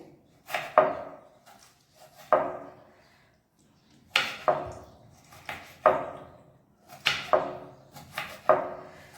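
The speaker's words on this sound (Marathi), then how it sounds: "एक टोमॅटो पण आपल्याला बारीक चिरून घ्यायचं आहे" A knife finely chops a tomato, producing sharp, close strikes in uneven bursts, single chops and quick doubles separated by short pauses, with no voices.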